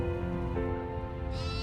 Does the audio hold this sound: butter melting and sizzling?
no